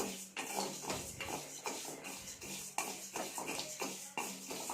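Rice roasting with black pepper and cumin in a pan: a spoon scrapes and stirs in steady repeated strokes, with small clinks against the metal, close and fairly quiet.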